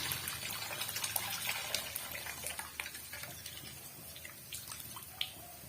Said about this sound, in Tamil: இப்ப தேவையான அளவுக்கு நம்ம தண்ணி சேர்த்துக்கலாங்க